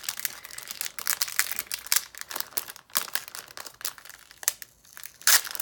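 A paper sticker being peeled off a planner sheet and the paper tearing, a close, continuous run of crinkling, crackling rips with uneven bursts and brief pauses.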